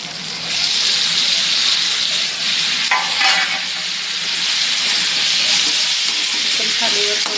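Tomatoes, soybeans, carrots and capsicum sizzle and fry in a pan while being stirred, a steady close hiss with scraping spoon strokes throughout and a sharper burst of sizzle midway.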